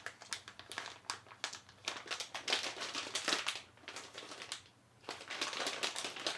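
A package being torn open with teeth, with close crinkling and tearing of plastic wrapping in uneven bursts and short pauses.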